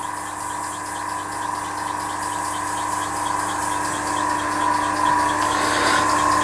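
A restored Empire B-30 engine assembled from old parts runs steadily, a loud continuous hum with a fine regular rhythmic throb that holds an even pitch and swells slightly toward the end, with no talking.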